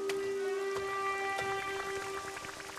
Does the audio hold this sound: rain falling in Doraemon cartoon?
yes